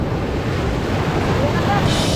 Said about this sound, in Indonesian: Oh, hati-hati tuh ombaknya.